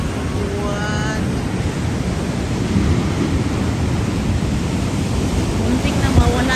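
Wild ocean surf crashes at Bronte Beach in Sydney, a continuous loud roar of breaking waves with a brief faint voice near the start and end.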